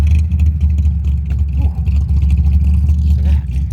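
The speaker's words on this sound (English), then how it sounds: "Listen to that baby hum." A classic car's engine hums at a car show, a steady loud low rumble that holds throughout with slight swells, close by and without talk.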